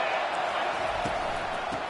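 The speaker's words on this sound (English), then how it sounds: "This crowd trying to make life miserable for this offense." A football stadium crowd at a Georgia Bulldogs college game roars as a broad, steady wash of noise, loud and unbroken, under spoken commentary.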